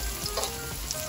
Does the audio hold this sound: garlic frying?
yes